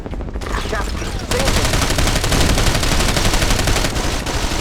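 Sustained automatic gunfire rattles in Ghost Recon Advanced Warfighter, with dense, loud bursts of rifle and machine-gun fire that grow heavier after the opening second.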